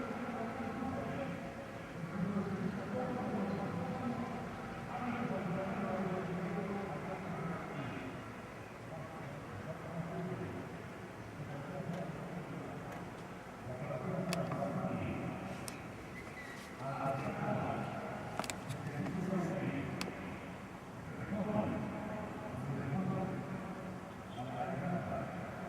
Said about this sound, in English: So that's the noise of all the announcements in the town.